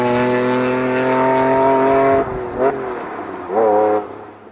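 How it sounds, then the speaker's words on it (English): A Lamborghini engine holds a loud steady rev, drops off, then blips the throttle twice with rising howls, close and alone. "He wanted us to enjoy the pure Italian engine sound."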